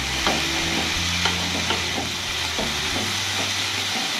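Onion stalks and vegetables frying with small puti fish in a pan, a steady close sizzle with repeated scraping stirs and the clatter of a spoon.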